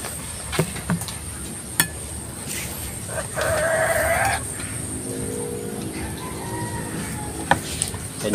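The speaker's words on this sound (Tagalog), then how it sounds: "Manok." Chickens clucking, a few short clucks and calls scattered over a rural outdoor background, with one longer squawking call in the middle.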